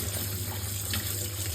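Water runs steadily from a tap while crabs are rinsed and cleaned in a sink, a continuous close splashing flow with a low hum underneath and no talking.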